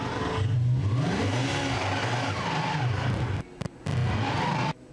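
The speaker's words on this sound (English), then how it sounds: "He's got fire in the V10, but he can't get it to move. I think there's too much fouling going on. He's trying to reverse it." A V10 race car at the 24 Hours Nürburgring, its engine revving hard and fluctuating while stuck and trying to reverse, with a brief cut-out near the end before the loud close roar resumes.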